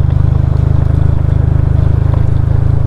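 A scooter's engine braking: a steady, loud low engine drone with a rapid regular pulse, running continuously from start to finish with faint wind rumble underneath.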